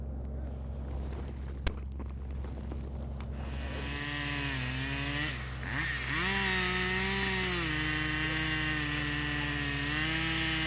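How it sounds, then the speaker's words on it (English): A chainsaw engine idles, then revs up and whines steadily, its pitch rising and dipping as it cuts through lake ice, loud and close. "Johnny needs a chainsaw to get through the ice to search for the sunken vehicle"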